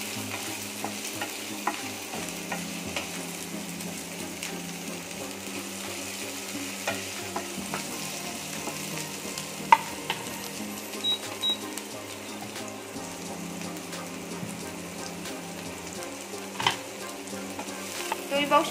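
Chopped onion, cut lengthwise, sautéing in a pan while hot dogs are being made, a steady low sizzle with soft stirring and scraping throughout, moderately near with occasional small clicks.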